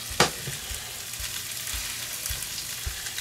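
Rainbow trout fillets slid into hot butter in a pan, a sharp burst of sizzle on contact settling into a steady close frying crackle with a few soft stirring bumps.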